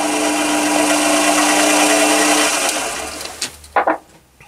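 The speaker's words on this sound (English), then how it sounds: "you put the fixture in the lathe and tighten it in the chuck and check that it's running true" A lathe spins with a brass fixture made from plumbing couplings tightened in its chuck, a steady loud whirring hum that winds down and stops partway through, followed by a few sharp knocks.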